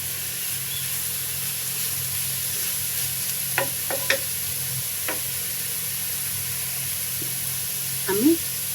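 Papaya zarda cooking in a pan, a faint steady sizzle with a few soft scrapes and taps of a spoon stirring, fairly close and without talk.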